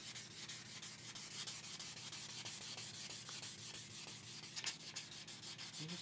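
An old rusty axe head is scrubbed by hand in steady back-and-forth strokes, a close, rhythmic abrasive rasp that holds an even pattern throughout, faint overall with no voices.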